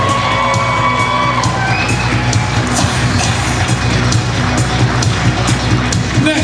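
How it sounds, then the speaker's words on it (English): Wedding reception guests clap, whoop and cheer as the groom's grandparents are introduced, a loud dense crowd roar with shouts over music, sustained throughout. "a big round of applause for the grandparents of the groom, Robert and Suzette Hubbard"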